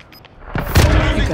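A heavy gunfire burst from the video game Warzone Resurgence rumbles in with deep booming impacts, loud and close, following a couple of faint clicks.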